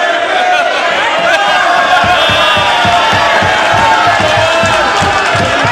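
Lawmakers in a parliament session raise a loud, dense roar of overlapping shouting voices, with rhythmic chanting or desk-pounding beats coming through partway in and continuing to the end.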